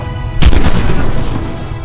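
A single loud gunshot from an old gun in the video game Old Skies cracks out after a quiet moment and leaves a heavy, booming tail that rings on for over a second, with no voices.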